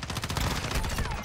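Rapid automatic gunfire from Warzone Mobile, a dense steady stream of shots filling the whole moment at a loud, close level.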